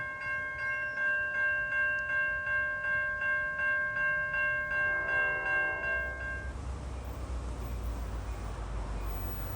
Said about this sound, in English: gates are going down for train 1157, Hoboken to Suffern